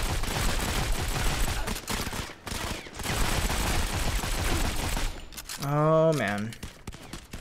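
Rapid bursts of gunfire from the mobile shooter Modern Combat 5 rattle through a firefight, dense and loud, with someone talking over much of it.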